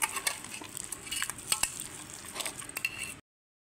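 Ripe palm fruit (tal) pulp being mashed and squeezed by hand for tal fuluri fritters: close, wet squelching and slapping with a steady run of soft irregular squishes, ending abruptly.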